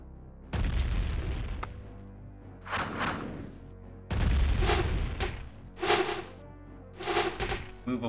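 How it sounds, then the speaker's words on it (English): Catapult attacks in the Warcraft strategy game land as a series of loud, booming explosions. A heavy blast is followed by repeated crashing impacts at irregular intervals, some overlapping. "catapult incoming"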